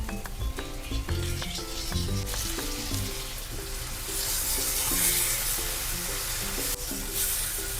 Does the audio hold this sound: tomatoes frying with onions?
yes